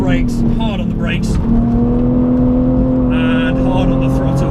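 A BMW Z4 engine revs and climbs in pitch as it accelerates on a race track, the whine rising steadily, close and loud, with a voice speaking over it at times.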